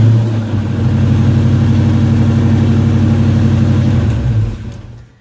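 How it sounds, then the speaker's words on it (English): A Ford Foxbody Mustang engine with a freshly installed BAMA tune idles loudly and steadily up close with an even, throbbing rumble, then shuts off and fades out near the end. No one talks. "as you see, the vehicle started, so everything went good"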